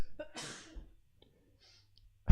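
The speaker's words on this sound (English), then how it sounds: "I'm going to sneeze." A single sneeze bursts out near the start, preceded by a short intake of breath, followed by quiet and a faint click at the end.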